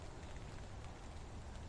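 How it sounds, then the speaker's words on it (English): Light rain shower falling steadily at night beside a Fenland drain, a soft, continuous patter and hiss with no distinct individual drops standing out. "I thought it might have a shower, but it's not heavy."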